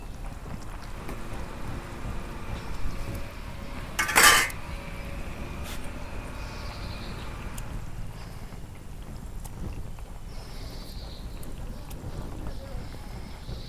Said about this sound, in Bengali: এখন আমি নাড়াচাড়া কইরে মাছ দেবো।